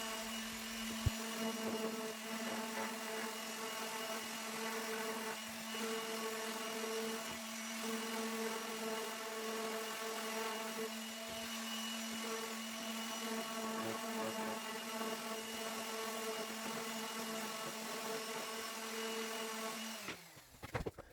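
A power sander whirring steadily on wooden wall cleats, a constant tonal hum held for about twenty seconds, then winding down abruptly with a few clunks at the end.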